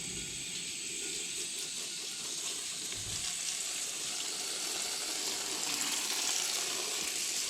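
Steady, dense hiss of water spraying onto rusty bicycle wheel spokes during cleaning, continuous and fairly loud throughout with no pauses or talking.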